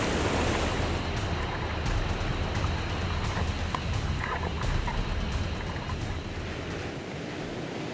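Strong ocean surf and wind roar close around a paddle board out at sea, a dense continuous wash with no pauses and no talk.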